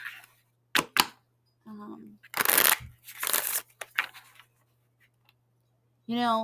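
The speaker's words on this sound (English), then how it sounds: "this is already like a minute into shuffling" A deck of cards is shuffled in short, crisp riffling bursts separated by quiet pauses, close to the mic, and a voice briefly speaks at the end.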